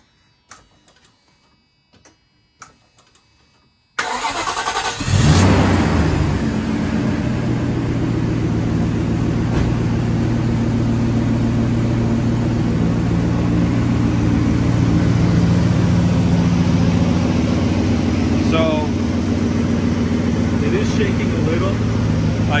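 After a few quiet clicks, a Mercedes SL500 (R129) engine with newly replaced fuel injectors starts and runs steadily with a loud, even hum that continues to the end.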